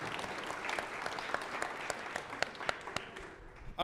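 A live mastermind event audience applauds a speaker, a dense, steady round of clapping from a sizable crowd that fades toward the end, with no talking over it.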